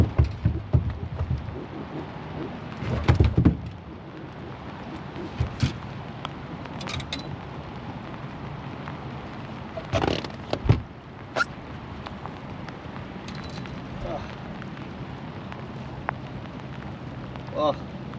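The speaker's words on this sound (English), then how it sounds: "Here we are, fishing in the rain." Steady rain falls outdoors during a fishing trip, a continuous hiss of drops on surfaces with a few louder splashes and knocks scattered through it.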